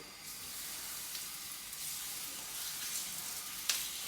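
Beef strips for fajitas sizzle in a smoking hot pan, a steady close hiss of frying that continues throughout, with a small pop near the end.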